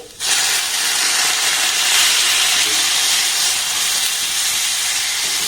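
Water poured onto hot turmeric and spices in a pan bursts into a loud, steady hissing sizzle that starts abruptly and holds strong throughout, with no talking.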